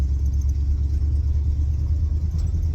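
Classic catering truck with a 351W engine pulling away, a steady low engine rumble close by that stays even for a few seconds as it drives off.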